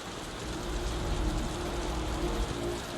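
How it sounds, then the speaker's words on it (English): Heavy rain in the video game Wuthering Waves, heard as a dense, steady broadband wash of falling water that holds at a constant loudness, with no voices over it. "The rain's getting heavier."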